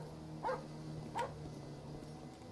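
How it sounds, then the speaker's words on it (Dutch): A dog in the GTA 5 video game gives two short, soft barks about a second apart, faint and alone over a low steady game-engine hum. "Hij kan blaffen."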